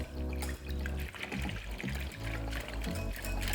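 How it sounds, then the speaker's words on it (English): Wet ingredients for a Filipino mango hotcake, including vanilla extract, are mixed in a bowl, making a quiet, close, sloshing liquid swirl with soft trickling and splashing in uneven strokes. "Then, I mix it all together"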